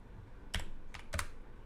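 Keys clatter on a computer keyboard in a few separate bursts of typing, close and moderately quiet, with no talking over them.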